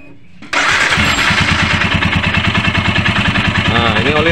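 A Royal Enfield Himalayan motorcycle engine cranks briefly and fires up, then settles into a loud, close, steady thumping idle with a slight rev near the end.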